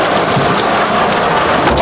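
Heavy rain pours with thunder in Tiruvannamalai, a loud, dense, unbroken roar of rainfall with low rumbling underneath, filling the whole stretch.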